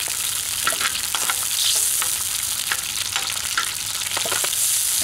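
Pieces of lamb kidney fry in a hot pan, a loud steady sizzle broken by frequent sharp pops and crackles, with no talking.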